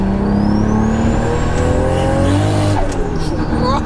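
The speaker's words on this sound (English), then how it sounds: "There was a little lump in the road there, and it just lit the wheels up as we went over it." A 1000HP Toyota Supra's engine roars loud and close as the tyres spin up over a bump in the road, with rising revs and a brief squeal.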